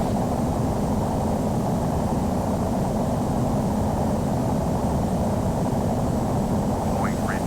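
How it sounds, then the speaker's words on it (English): Airliner taking off in Microsoft Flight Simulator X, a steady, loud broadband engine roar filling the whole clip with no break or change in level. "We have liftoff."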